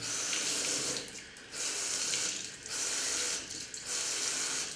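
Water runs from a tap into a sink in bursts, a close hissing flow that cuts off briefly about four times, with faint mechanical clicks from the tap between the bursts.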